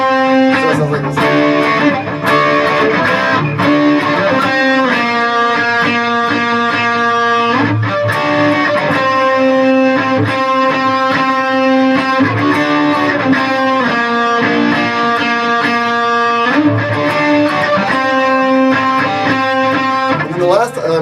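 A distorted electric guitar plays the riff, a loud, continuous crunchy riff with repeated chord stabs and note runs, close and alone.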